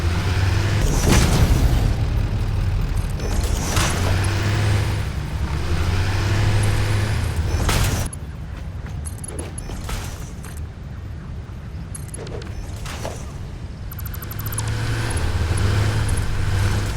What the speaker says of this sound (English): Trying to get hit by these trucks here.